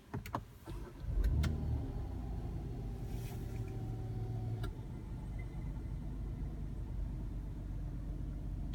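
A 2016 Kia Sorento SX+ engine starts and idles steadily, a low rumble with a faint thin metallic grinding edge reported, a brief sharp transient near the start and no talk.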